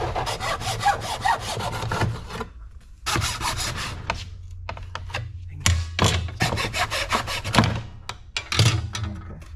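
A small hacksaw cuts off metal brackets on a 1986 Chevy C10 squarebody during a dual electric fan install, rasping in quick back-and-forth strokes in close bursts separated by short pauses.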